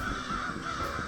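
Crow in Lethal Company giving a single short harsh caw, close and fairly loud, with no talking over it.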